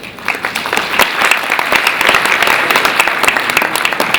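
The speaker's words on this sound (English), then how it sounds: "give yourself a round of applause" A conference audience bursts into loud, lively applause after a panel session, with many distinct hand claps cracking close by over a full, sustained clapping roar that swells and keeps going.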